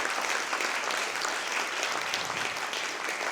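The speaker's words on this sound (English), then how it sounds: "Can we applaud them?" An audience in a theater gives sustained applause for the staff, a dense, even roar of many hands clapping that holds steady for a few seconds without talk.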